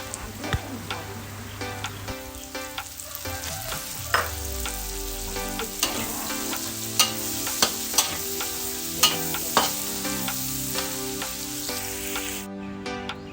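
Pork belly stir-fried in a wok with chili and spring onion, a steady close sizzle with repeated sharp clinks of the spatula scraping and tossing, over a low background hum, ending abruptly.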